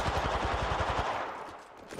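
Rapid automatic gunfire from a weapon in the video game Apex Legends, a fast burst of close, loud shots for about a second that then cuts off into quieter game ambience.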